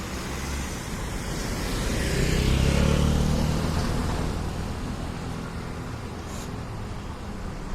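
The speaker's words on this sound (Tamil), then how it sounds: "இந்த இடம் ஆக்சுவலாக ரேணிகுண்டா வண்டி வந்துக்கிட்டே இருக்குது" Road traffic passes along the road to the airport near Renigunta, a broad rushing noise that swells as a vehicle goes by and then fades, with no talking.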